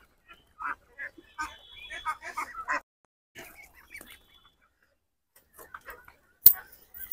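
Ducks at a wooden duck house built on a riverbank call out in scattered short quacks and honks, fairly close but soft, with brief pauses between bursts and a sharp knock near the end.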